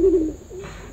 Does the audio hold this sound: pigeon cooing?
yes